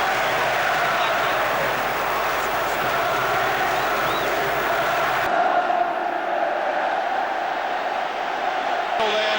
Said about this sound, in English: Getting a great reception from the Wembley crowd as well